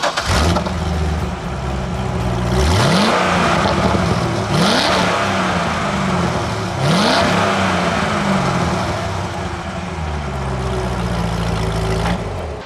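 A Corvette Z06 on its stock valved exhaust idles, then revs up hard several times in a row, each blip climbing and falling back to a rumbling idle, loud and close.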